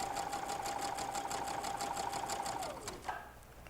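Sewing machine stitching a quarter-inch quilt seam for a wall hanging, a steady fast rhythmic whirring hum heard close and alone that slows and stops near the end.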